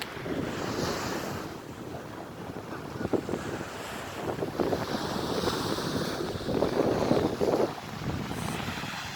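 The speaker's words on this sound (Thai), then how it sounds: "แต่ก็ยังมีเจ็ตสกีเยอะ" Jet skis out on the sea off Pattaya beach, their engines a distant drone blended with steady surf and gusty wind buffeting the microphone, with no voices.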